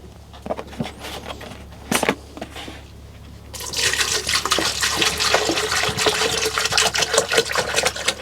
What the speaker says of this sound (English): I'm going to fill this up with much more water than we need